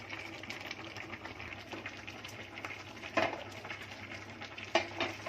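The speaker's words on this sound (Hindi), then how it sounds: "भिंडी फ्राई कर रही हूँ" Okra shallow frying in oil in a pan in a home kitchen, a steady close sizzle with occasional utensil clinks and stirring scrapes, no talk.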